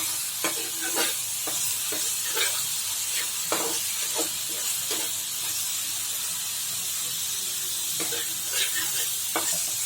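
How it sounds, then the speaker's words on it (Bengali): Onions fry in a small amount of oil in a pan, a soft sizzling hiss with scattered spatters and the clack of a stirring utensil, close up and without talk. "পেঁয়াজটা একটু ভালো করে মতোই ভাজা ভাজা হয়ে এসছে"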